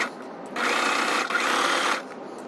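A sewing machine stitches a tote bag strap in a single close burst of just over a second, with quieter pauses before and after.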